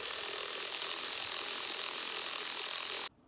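A T30 star bit turns a battery bolt loose on a KTM 1290 Super Duke R, making a fast, steady, close ratcheting whir that stops abruptly near the end.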